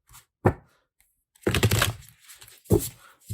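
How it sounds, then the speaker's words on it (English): Wandering Star tarot cards being shuffled by hand, close and quiet, in short bursts of riffling and slapping cards separated by brief silences. "I would just like this to be shuffled."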